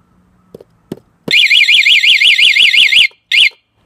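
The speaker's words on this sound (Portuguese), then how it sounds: "Ativando o alarme." A motorcycle alarm, just armed with its sensitivity at the highest setting, lets out a few faint clicks, then a loud warbling electronic siren for nearly two seconds, followed by a short repeat burst.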